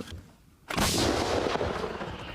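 A single heavy shot from a self-propelled artillery gun in frost bursts out after a brief quiet moment, a loud blast followed by a rolling, rumbling echo that fades slowly.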